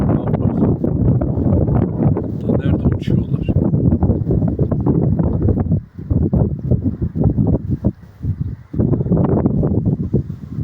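Strong wind roars and buffets the microphone in a steady, loud rush over hilly open ground where young pigeons fly, with a brief spoken question heard under it.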